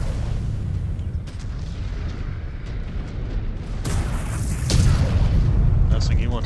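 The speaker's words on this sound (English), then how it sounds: "Incoming missile." Incoming missile explosions in the mech combat game Mechwarrior 5: Clans, deep rumbling booms and blasts that swell louder toward the end, layered under game voices.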